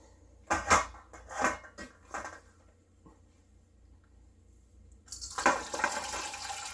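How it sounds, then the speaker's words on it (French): Beef stew broth poured from a pot through a strainer to separate out the vegetables, heard as a few splashy pours and clinks early on, then a steadier liquid rush near the end, close and with no talk. "Maintenant, on va transférer le bouillon pour le filtrer."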